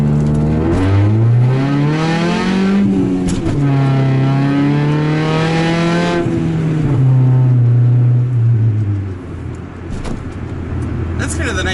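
Car engine revs hard toward the redline through first and second gear on a 40 speed-limit road to work, with rising pitch sweeps broken by gear shifts, heard from inside the car while someone talks over it.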